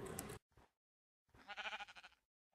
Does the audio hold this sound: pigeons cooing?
no